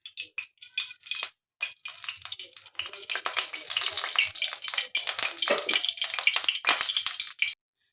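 Cooking oil, four spoonfuls, poured into a hot wok for spicy tilapia, sets off a steady crackling sizzle that swells and holds close and loud for several seconds, broken by a few brief gaps.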